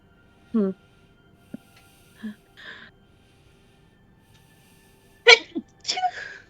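A single sharp human sneeze bursts out near the end during a tabletop horror role-playing session, after a few soft breaths and quiet vocal sounds. It is close and loud against an otherwise quiet room.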